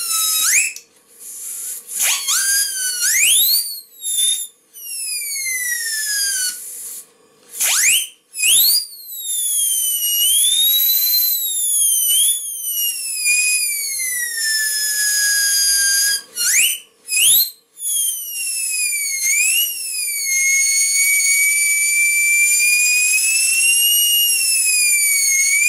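A piercing model steam whistle sounds again and again, some blasts short and some long, its high pitch rising and falling, loud and close.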